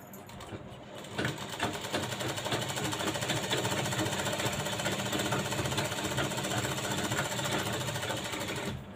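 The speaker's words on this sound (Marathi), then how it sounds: "इकडच्या साईडने एक शिलाई करून घ्यायची आहे व्यवस्थित अशी शिलाई करायची" A sewing machine stitching the lining onto a blouse, running as a fast, steady mechanical chatter that starts after a brief pause and continues without a break, close and fairly loud.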